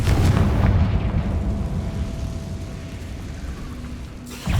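A Confringo fire spell explodes in the Hogwarts Legacy video game with a loud, rumbling boom and a sustained roar of debris and flame that slowly tails off over several seconds.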